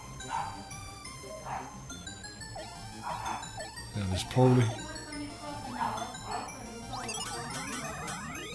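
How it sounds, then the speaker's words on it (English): A dog barks outside, heard faintly in the distance beneath Bubble Bobble game music and someone talking. "probably a dog in the road now"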